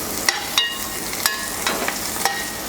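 Garlic, ginger, lemongrass and curry leaves sautéing in coconut oil, a soft steady sizzle broken by several light stirring scrapes, close and moderately quiet.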